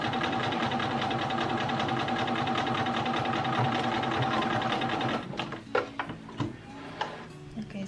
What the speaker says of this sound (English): so now I'm just going to sew it